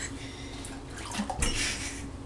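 Tap water runs and splashes as a jug is rinsed out in a kitchen, a steady near stream with a brief louder gush midway.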